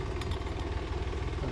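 A tractor engine chugs in a low, steady idle rhythm as it pulls up in a Botad village, close and even throughout the short stretch.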